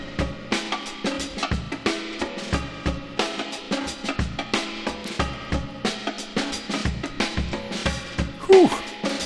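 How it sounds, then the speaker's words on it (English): Classic bongo break loop from a free Apple loop library: crisp, rapid hand-drum hits in a steady, repeating funky groove over a backing beat, continuous and close, with a brief vocal-like whoop near the end. "and I found one called the Bongo Classic Break."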